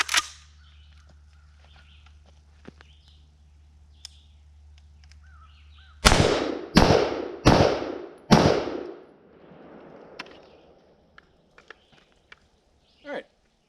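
Four loud unsuppressed 5.56 rifle shots crack out at an outdoor range in quick succession, each a sharp broadband blast with a short ringing tail, followed by faint clinks and a distant small bang.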